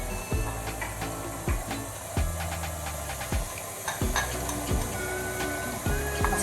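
Mascarpone being beaten into freshly whipped cream sweetened with icing sugar and vanilla, a steady close mixer whir with repeated rhythmic knocks of the beaters against the bowl, continuous throughout.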